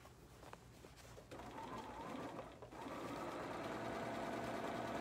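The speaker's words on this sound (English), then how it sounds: "then I'm going to edge stitch that" A sewing machine edge stitching a hat seam hums in a steady, fairly quiet whir that starts in short spurts and then runs continuously, close by with no talk.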